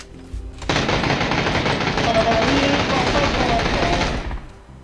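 A sustained burst of loud automatic gunfire in PUBG (Battlegrounds) starts abruptly and rattles on for about four seconds before cutting off.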